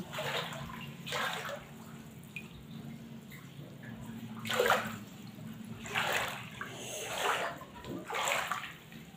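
Floodwater sloshes and splashes inside a house in intermittent bursts, with dripping and a steady low hum underneath.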